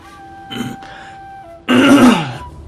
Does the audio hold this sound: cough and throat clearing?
yes